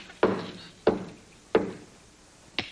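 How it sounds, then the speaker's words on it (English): Four sharp knocks strike a door at a slow, even pace, each a crisp hollow rap with a short decay, moderately close in an otherwise quiet room. "Answer the door, Tiny Tim."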